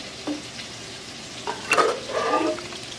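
Canned diced tomatoes with green chilies tipped into a crock pot, a short wet splatter and slosh with a couple of soft knocks from the can, close and brief with no talking.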